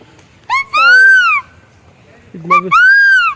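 A child imitates a peacock call at Mysore Zoo, giving two loud, rising-and-falling wailing cries separated by a short pause, close and clear.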